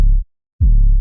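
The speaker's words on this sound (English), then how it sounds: "So I started by making a sub layer real easy, just a sine wave." Sine-wave sub bass layer for a tearout dubstep track, shaped by an LFO on its level: two loud, deep, smooth low pulses separated by a short silence.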